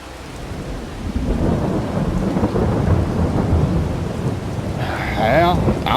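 Heavy rain pours down with deep rolling thunder, a steady loud roar that swells after the first second and rumbles on, with a brief warbling tone near the end.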